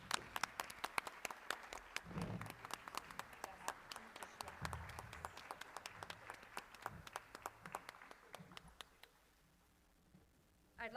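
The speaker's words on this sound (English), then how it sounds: "Please, can we give Mary another round of applause?" Applause from attendees at the Princeton City School Board of Education meeting honouring a departing member: scattered, crisp claps of a modest crowd with a faint voice or two beneath, thinning out and stopping near the end.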